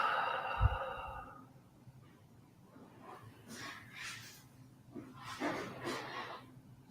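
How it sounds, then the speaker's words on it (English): Slow, deep breathing during a relaxation exercise: a heavy sighing exhale at the start, then several soft, drawn-out breaths close to the microphone, with no speech. "Breathing."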